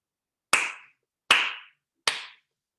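Three sharp hand claps, evenly spaced about three-quarters of a second apart, close and crisp against silence, during a children's magic-themed story time.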